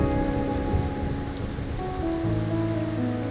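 Steady rain falling in the game Wuthering Waves, a constant hiss of drops on surfaces with a faint low rumble and soft musical tones beneath.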